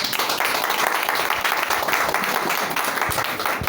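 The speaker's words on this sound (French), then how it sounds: "je vais vous demander vous-même d'abord de vous acclamer très très fort." A crowd at a ceremony in Tunis bursts into loud, sustained applause, dense clapping filling the room with a few cheers scattered through it, steady from start to finish.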